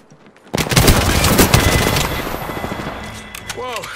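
Enemy fire in a shooter video game erupts after a brief quiet: a loud, rapid automatic burst of gunfire that keeps rattling, then trails off into scattered shots, with a chirping electronic effect near the end.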